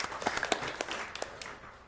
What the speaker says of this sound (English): Round of applause for PJ, please.